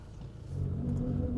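A Chevy Colorado Z71 crawls a rough trail in four-low first gear, its engine a low, steady rumble that swells slightly partway through this short moment.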